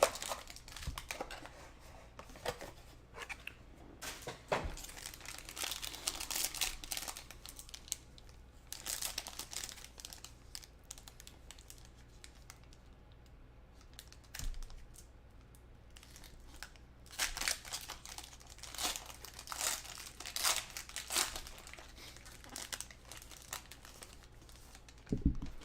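Panini Mosaic football card packs are torn open by hand. Close, crisp bursts of wrapper crinkling and tearing come in irregular clusters, separated by quieter pauses, with no talk.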